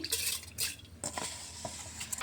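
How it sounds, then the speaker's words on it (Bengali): Spoon stirring rice and potatoes in a cooking pot, close scraping and clinking strokes against the metal, several uneven bursts with a soft hiss underneath. "চালটা দিয়ে ভালোভাবে একটু মিশিয়ে দিচ্ছি"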